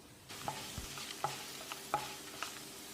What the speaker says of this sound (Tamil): குறைஞ்ச தீயில் 1 நிமிஷம் இதை வதக்கி விடணும்.